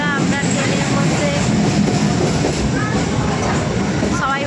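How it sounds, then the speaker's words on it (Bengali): Loud, steady rumble of a moving passenger train heard from inside a carriage, a dense continuous roar with faint rhythmic clatter, with a voice talking over it. "তো দেখো বন্ধুরা, আমরা ট্রেনের মধ্যে"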